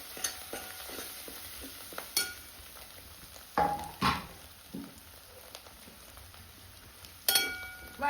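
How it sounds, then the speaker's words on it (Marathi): Ground spice paste, a village-style stone-ground masala for drumstick curry, frying in oil over a wood-fired stove, with soft continuous sizzling under occasional scraping and clinking stir strokes of a spoon against the pan. "वाटण आपल्याला तेलामध्ये छान परतून घ्यायचंय."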